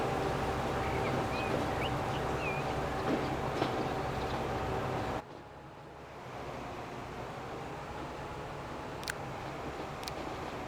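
A bullet train rolls along in the Transport Fever 2 simulation game, a steady broadband rumble of wheels and air with a sudden drop in level midway and a couple of brief high clicks near the end, no talking.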